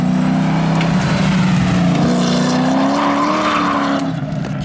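A Nissan R34 Skyline drifts with its engine held at a loud, sustained high-rev drone and tires hissing and squealing underneath, a continuous close roar with the pitch wavering slightly throughout.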